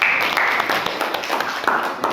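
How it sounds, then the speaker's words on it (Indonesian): Students in a vocational high school classroom applaud after a group presentation, a dense, close burst of hand clapping that continues steadily with small surges and no talking over it. "Silakan tepuk tangan"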